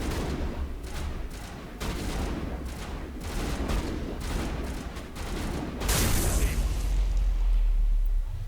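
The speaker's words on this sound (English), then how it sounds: "you will note now that the explosion is a lot less impressive than it was last year" Gunfire and explosions from the Mass Effect video game, rapid bursts of shots rattling through the first half, then a heavier rumbling blast swelling near the end. No talk over it.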